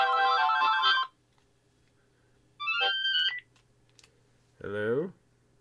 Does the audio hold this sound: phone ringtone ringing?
yes